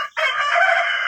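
Village chickens (ayam kampung), with a rooster letting out a single loud, close crow that holds steady for about a second after a brief gap at the start. No one speaks.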